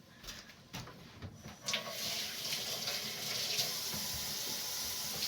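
Water pours steadily into a crockpot, a continuous splashing rush that starts after a few quiet knocks and runs at even strength to the end, close to the microphone.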